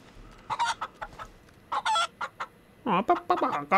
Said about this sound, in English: This chicken is crazy.